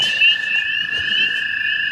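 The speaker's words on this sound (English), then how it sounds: "This is a common spring breeding pool. Spring peepers, American toads, leopard frogs." Spring peepers, American toads and leopard frogs calling together at a spring breeding pool at night, a dense steady chorus of shrill peeps over a continuous trill, loud and unbroken throughout.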